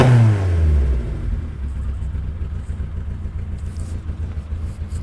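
A 1971 Datsun 510 engine fires up with a quick cranking whir and a falling rev, then settles into a loud, lumpy, throbbing idle close by; no talking.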